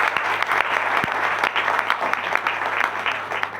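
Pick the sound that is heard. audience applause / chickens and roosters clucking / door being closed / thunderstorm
audience applause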